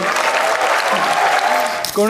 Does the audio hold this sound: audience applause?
yes